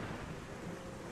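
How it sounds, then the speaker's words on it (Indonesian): Loud, sudden thunder crack from a large lightning strike near an office building in the late afternoon, a dense rumbling wash filling the short moment with no speech. "petir yang cukup besar terdengar mengagetkan"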